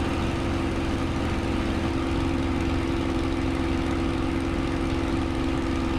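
A Spitfire Mk IXc piston engine drones steadily at a distance during a low pass in a flight simulator, an even propeller buzz with no talk.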